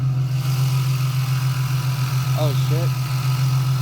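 A supercharged Nissan 370Z with a Stillen kit idles with a steady, loud droning whine, while a voice briefly exclaims over it.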